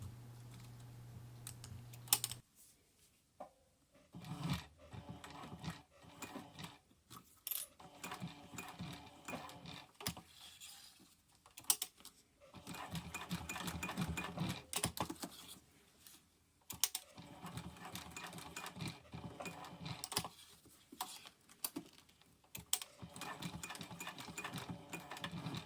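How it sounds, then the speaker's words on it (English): A sewing machine stitches bag layers together in repeated bursts of rapid mechanical whirring, separated by short pauses, close and fairly quiet. "Sew the layers together 3 or 4 times,"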